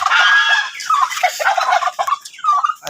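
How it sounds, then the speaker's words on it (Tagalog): A flock of chickens in a Filipino poultry yard clucks and squawks steadily, with overlapping calls close by and no talk. "Ang daming manok ko."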